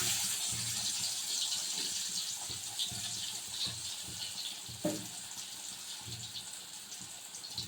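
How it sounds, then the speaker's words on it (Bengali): Pieces of ash gourd coated in salt and turmeric fry in a pan with a steady, fairly quiet broadband sizzle and a few soft clicks and knocks, with no voices. "নুন হলুদ মাখিয়ে নিয়েছি, এখন ভেজে নেব, লাল লাল করে ভেজে নিতে হবে।"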